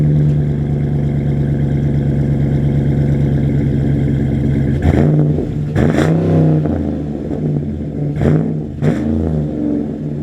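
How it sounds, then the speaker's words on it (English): A Jeep Gladiator's 392 V8 engine idles with a deep, loping burble through the exhaust, then blips sharply four times in quick revs, loud and close with no talking. "hear what the exhaust sounds like and drive it"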